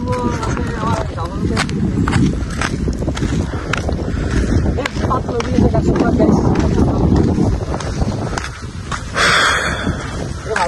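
Strong wind by a riverbank buffets the microphone in gusty, roaring blasts, with people talking underneath.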